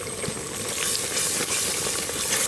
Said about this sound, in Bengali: ধনে পাতা আবার একটু নাড়া দিয়ে দেবো